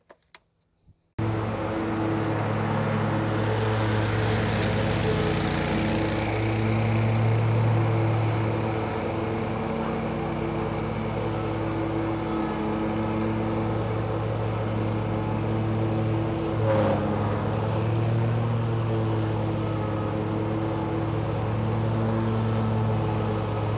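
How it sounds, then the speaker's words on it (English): A Yakta YXR710 zero turn mower runs steadily while mowing, its engine droning loud and close with a constant low rumble and no talking. "So now we can get mowing."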